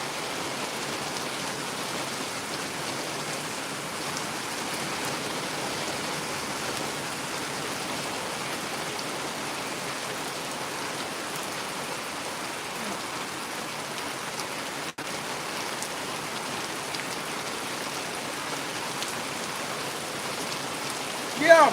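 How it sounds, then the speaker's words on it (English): Steady rain in Mississippi, falling continuously as a dense, even hiss that holds at the same level for over twenty seconds, with no voices over it. "Yeah, we get plenty of rain."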